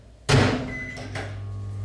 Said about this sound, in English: Making them in the microwave today.